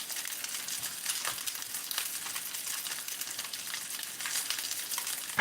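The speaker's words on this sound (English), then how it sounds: "the bacon's frying up real nice" Bacon sizzles and crackles steadily in a Griswold cast iron skillet, a dense close frying hiss with scattered pops running throughout, no talk.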